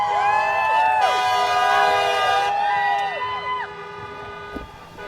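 Several car horns honk at a No Kings Day street protest, with overlapping toots and long blasts that sometimes sound together, over a cheering crowd, then thinning out toward the end.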